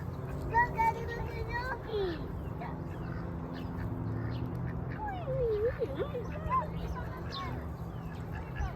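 Ducks quack a few times at a park, short nasal calls heard faintly under a child and an adult talking, with outdoor background noise throughout.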